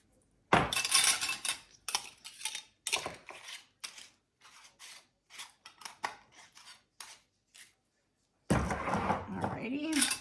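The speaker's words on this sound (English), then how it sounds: "So I just washed all the lids, and we'll just stick them on." Washed plastic lids being pressed onto individual dessert containers: a series of short clicks and clatters with a few pauses, then a busier stretch of handling near the end.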